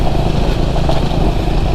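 A Triumph Scrambler 400 X motorcycle under way, its engine a steady, loud, continuous drone with road and wind rumble, close and without a break.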